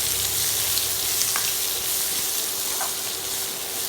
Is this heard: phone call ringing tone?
no